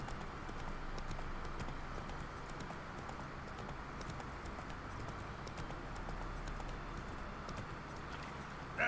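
Horse Roach galloping down a road in The Witcher 3, a steady broadband patter of hoofbeats running continuously with ambient noise and no voices.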